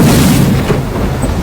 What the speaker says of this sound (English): there was a satisfying explosion, with waves splashing up